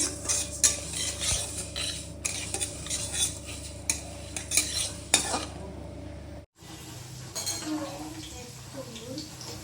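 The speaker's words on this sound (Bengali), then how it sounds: "তোমরা একটা মুগ ডাল ভেজে নেবো।" Moong dal fries in a pan in a home kitchen, a steady sizzle with repeated scraping and stirring of a utensil against the metal, brief clinks, then a quieter softer sizzle after a short pause.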